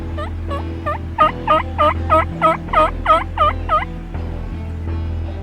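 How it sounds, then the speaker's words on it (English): A wild turkey gobbler on its roost sounds off in a rapid run of about a dozen loud, warbling gobbles, fairly close and alone, then falls quiet. "the gobbler's still up on the roost"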